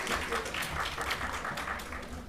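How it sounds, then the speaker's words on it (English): An audience at a National Science Day celebration at AIR Hyderabad claps steadily to welcome a speaker, a dense, even wash of applause that lasts the whole moment, moderately loud and slightly distant. "Please welcome him with a big round of applause."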